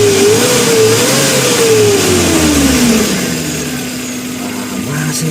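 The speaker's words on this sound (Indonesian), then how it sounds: "saya sebutkan dari sini sambil saya gas ya biar panjenengan tahu" The engine of a small pickup truck revs up and holds high, then drops back to a smooth idle; it is loud and close, with no voices.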